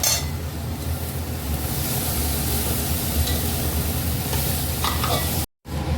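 Water hits a pan of spice paste fried down until dry for a Bengali bata fish curry, setting off a loud, dense, continuous sizzle with light clinks, then a brief cut near the end.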